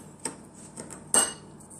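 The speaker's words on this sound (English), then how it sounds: "you can cut it and then just mesh it together as best as you can with a spoon or with a fork" Spoon or fork scraping and pressing crumb topping for banana crumb muffins in a bowl, a few soft clinks and scrapes spread unevenly, with one sharper scrape near the end, close and fairly quiet.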